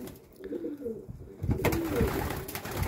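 Racing pigeons coo softly in a loft, with several low, rolling coos close by and some rustling and fluttering in the background.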